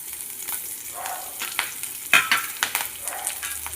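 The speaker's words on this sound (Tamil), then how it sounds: "இதில் வந்து நம்ம எடுத்து வச்சுருக்க கடுகு உளுத்தம் பருப்பை வந்து சேர்த்துக்கலாம்." Mustard seeds, urad dal and green chilli frying in hot oil for carrot poriyal, a close crackling sizzle with scattered sharp pops and spatters, no voices.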